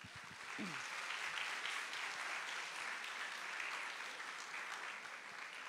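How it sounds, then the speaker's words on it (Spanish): Audience of high school students applauding a speaker before an astronomy talk on light and telecommunications pollution, a broad, steady wash of many hands clapping, fairly distant and soft, continuing evenly throughout. "le damos un aplauso a Roberto"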